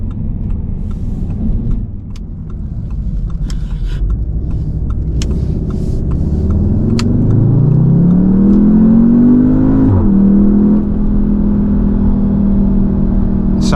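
A 2019 Audi TT S engine pulls through a tight U-turn, its hum climbing steadily in pitch as the car revs up, dipping briefly, then settling into a loud, close, steady drone, with no talk.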